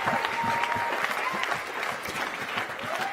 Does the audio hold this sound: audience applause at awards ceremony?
yes